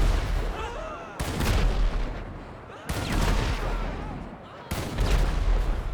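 An armored personnel carrier's standard cannon fires in a video game, three heavy booming shots spaced about one and a half seconds apart, each followed by a rumbling decay.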